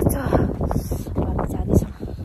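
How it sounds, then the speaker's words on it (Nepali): Strong cold wind in snowy weather at Aso, Kumamoto, buffeting the microphone in loud, uneven gusts with a low roar, while a person talks over it. "यस्तो जाडो भने यति हावा आइरहेछ कि अझै हावा आइरहेछ"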